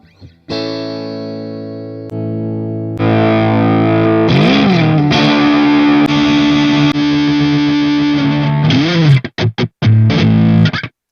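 Electric guitar run through a distortion effects pedal, loud and sustained, with long held fuzzy chords, a couple of bending notes and a few sharp choppy stabs near the end, with no voices.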